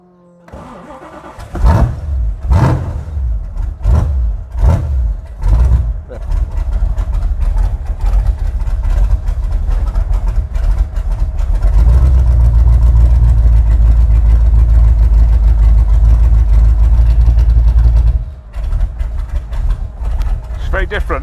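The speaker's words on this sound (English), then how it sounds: "It's all these loud cars, Chris." A loud car, with a one-off Ford GT40 302 cubic inch 400 bhp among the cars present, cranks in several sharp bursts, catches and settles into a heavy, deep-throated idle that rumbles on before easing slightly; voices are heard talking at points.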